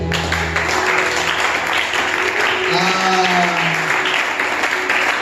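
A church congregation at a Sunday service applauding and cheering, a steady dense wash of clapping heard throughout, with a voice speaking over it and a sustained sung or called tone partway through.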